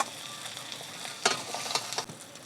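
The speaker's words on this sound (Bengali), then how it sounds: "আমাদের কাঁকড়া ভাজা কমপ্লিট হয়ে গেছে। এবার কাঁকড়াগুলো তুলে নেওয়া হচ্ছে।" Fried Sundarban king crabs are lifted out of hot oil, with a steady sizzle under a few clattering knocks and scrapes as pieces are taken out.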